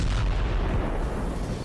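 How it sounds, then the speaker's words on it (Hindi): A heavy explosion on the Crimea bridge, captured in news footage as a dense, loud, low rumbling blast that fills the short span without any talk. "इसकी एक झलक उस वक्त मिली थी जब क्राइमिया ब्रिज पर विस्फोट हुआ था"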